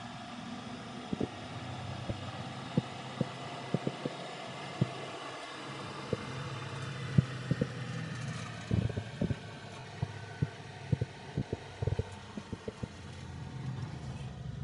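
A 4x4 five-speed Suzuki mini truck drives with its windows open, giving a steady low engine and road hum with small irregular clicks and rattles ticking through it.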